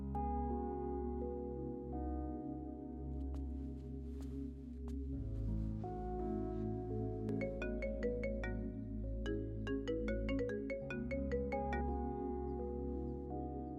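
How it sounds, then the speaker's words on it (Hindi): A mobile phone rings with an incoming call in a Hindi-dubbed Tamil romantic film, its bright electronic melody looping steadily and loudly for about fourteen seconds with no talking over it. "वो संतोष बार बार फोन कर रहा है।"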